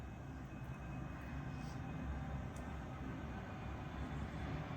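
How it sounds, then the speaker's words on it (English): An airplane passes overhead with a steady, droning engine rumble that holds evenly from start to finish, with no talking. "And we have an airplane going overhead."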